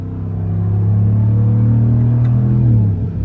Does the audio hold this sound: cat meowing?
no